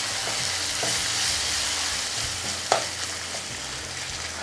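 Tomatoes frying with onions in a pan, a steady close sizzle with a few faint stirring taps and one brief clink, no speech.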